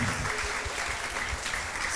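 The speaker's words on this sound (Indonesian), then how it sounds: "Tepuk tangan yang meriah untuk Pak Dian" An audience at a panel discussion on artificial intelligence and young people's future claps for Pak Dian, a brief, fairly quiet stretch of steady clapping heard from some distance.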